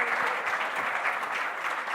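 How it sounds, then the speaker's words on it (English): Conference audience applauding its speakers, a brief burst of brisk, even clapping from many hands in a hall, moderately loud and continuous. "A big round of applause for our 4 speakers."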